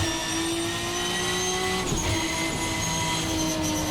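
VRC Beamer V12 prototype race car in a racing video game, its V12 engine and gearbox droning loudly and steadily, with a brief dip around a gear change before the tone resumes at full power.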